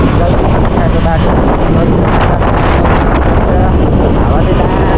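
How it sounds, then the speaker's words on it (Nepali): Strong wind roars and buffets the microphone during a ride on a KTM Duke 200 motorcycle, a loud, steady rush with no letup, and a voice is faintly present within it. "हावा चाहिँ कमाल चलिरहेछ क्या"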